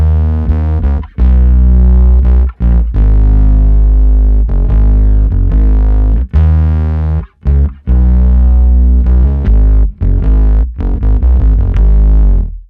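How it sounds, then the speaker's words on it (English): Logic Pro's Fuzz Hybrid synth preset, blending a big fuzz synth with bass, plays loud distorted sustained notes with a thick low end and buzzy harmonics, in phrases broken by short gaps, with no voice. "This is called the Fuzz Hybrid, and it's supposed to be a mix between a big fuzz synth and a bass"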